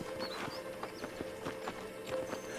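Horse hooves from the Red Dead Redemption video game, a soft rhythmic clip-clop of steady walking steps, fairly quiet and receding, with no talk over it.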